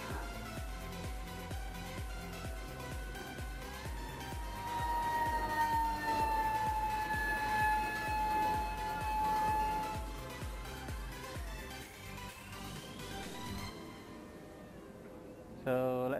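An RC F-15C Strike Eagle parkjet's electric motor whines at full throttle, its tones sliding up and down in steady sweeps over constant rushing air, close and fairly loud, with faint voices in the background.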